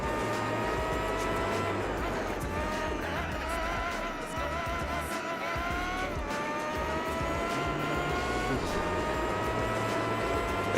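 Race cars in the Gran Turismo 4 Formula GT World Championship whine at high revs, with engine pitch rising and falling through gear changes, loud and continuous throughout.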